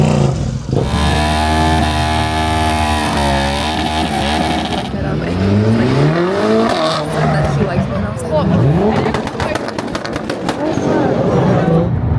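Motorcycles ride and rev along a road in Cyprus, loud engine drone with rising and falling pitch and throttle blips, with people talking over the engines throughout.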